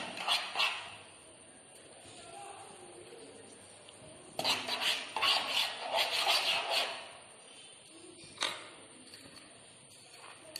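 Powdered sugar and a pinch of salt stirred in a bowl during a children's cooking competition, giving soft intermittent scraping and rubbing strokes, close and fairly quiet, with a busier stretch of mixing in the middle.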